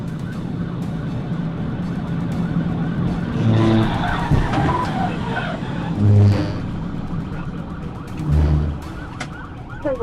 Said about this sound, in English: executed a TVI at approximately 60 miles per hour, causing the vehicle to spin across all lanes before sliding onto the grass shoulder